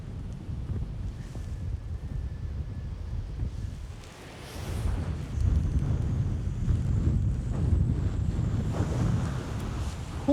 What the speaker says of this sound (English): Whoa, that wind's getting up.